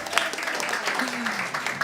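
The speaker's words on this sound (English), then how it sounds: "Let's get a round of applause for Rev as well." A church congregation at a Sunday service applauds in a brief, fairly loud burst of clapping, with voices mixed in beneath it.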